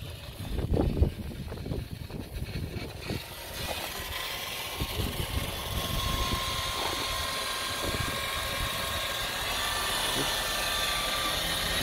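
A rotary polisher spins up to high RPM while buffing compound into semi-gloss boat gelcoat, a steady whirring drone that settles in after a few louder knocks and rustles at the start.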